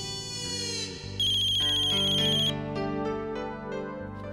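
Telephone ringback tone on an outgoing call, a steady electronic ringing pattern repeating over a few seconds with music-like tones, loud and clear with no talking.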